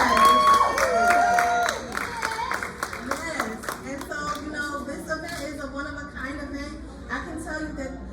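An audience at a community baby shower claps and cheers, with a loud burst at first that settles into a busy mix of scattered claps, crowd chatter and children's voices.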